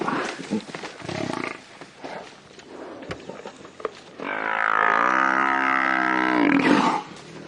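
Out on a sunset safari drive, a lioness lets out a long, loud, throaty roar that swells and holds for a few seconds. Scuffs and rustling near the vehicle come before it.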